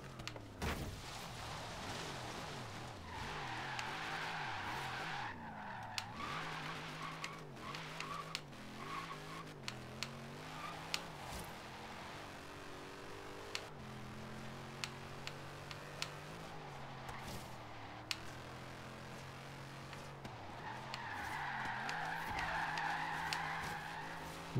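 A car drifts in Forza Horizon 3 with tire squeal rising and fading over a steady engine drone, the squeal loudest near the start and again at the end.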